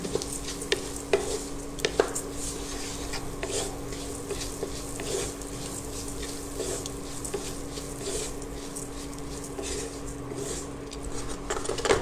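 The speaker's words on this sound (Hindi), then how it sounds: "अब हम ओट्स को थोड़ा सा इसके अंदर भूनेंगे।" Oats, about one cup, dry-roasting in a steel pan on a home stove, giving a steady soft rustling sizzle with scraping stir strokes throughout, fairly close and even in level.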